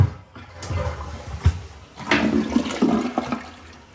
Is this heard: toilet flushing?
yes